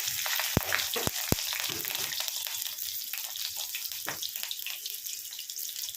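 Panch phoron and green chillies hit hot oil with a loud, hissing sizzle that carries throughout, broken by a few sharp pops and clanks of utensils close by.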